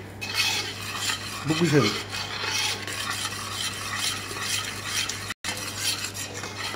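A spoon scraping and stirring melting chocolate in a pot over very low heat, a soft repeated rasp with clinks against the metal, while someone speaks briefly.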